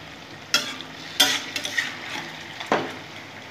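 Sweet pumpkin chokka stirred in a pan after ghee is added, three or four distinct scraping strokes over a light background sizzle, near and clear.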